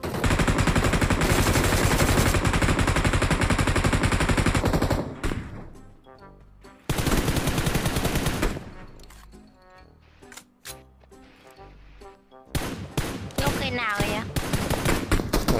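Bursts of automatic gunfire from a PUBG Mobile match, loud and dense, with heavy firing at the start, scattered quieter shots in the middle and more sustained fire near the end, with faint talk in between.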